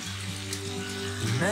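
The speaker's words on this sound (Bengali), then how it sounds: "কোপ্তা কারি রান্না করার জন্য আমি পেঁয়াজটা একটু লাল করে ভেজে নিলাম।" Onions browning in hot oil in a pan give a brief, close sizzle, with a voice talking over it for much of the moment.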